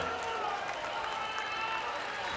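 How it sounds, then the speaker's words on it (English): Tennis crowd at the 2022 US Open booing during a women's doubles first-round match, a steady, dense wash of many voices filling the stadium without a break, with no clear applause bursts. "Coco's trying to get the crowd to stop booing now."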